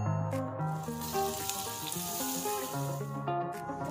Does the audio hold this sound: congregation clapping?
no